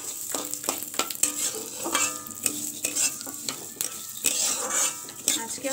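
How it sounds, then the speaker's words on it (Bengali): Mung dal fries in hot oil in a kadai with a soft continuous sizzle, while a spoon repeatedly scrapes and clinks against the pan in an uneven stirring rhythm, close and fairly quiet. "একটু তেলের মধ্যে ভেজে নেব"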